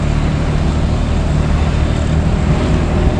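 A 1987 Fiat 126p drives along, its small engine droning loudly and steadily with dense road and wind noise heard from inside the car, no voices over it.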